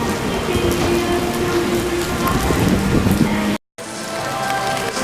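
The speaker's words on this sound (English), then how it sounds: "It's been raining pretty heavily." Heavy rain pours steadily at Fuji-Q Highland amusement park, a dense, loud hiss that continues without a break and cuts out briefly near the end before resuming.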